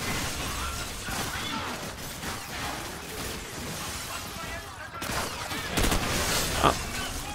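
Gunfire crackles in the shooter game Call of Duty 4: Modern Warfare, with rapid shots and clattering impacts running throughout and a sharper blast near the end, under faint background speech.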